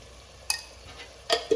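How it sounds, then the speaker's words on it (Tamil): Ginger and garlic sautéing in a pan, a faint soft sizzle broken by two or three sharp scraping clicks of a spoon stirring, close and quiet, no voices. "இப்போ இஞ்சி பூண்டு நல்லா வதங்கிருச்சுங்க"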